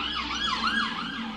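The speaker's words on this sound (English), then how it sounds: "the ambulance going past" An ambulance siren wails in rising and falling sweeps close by, loud and continuous over street noise as it passes outside a Primark store while shopping.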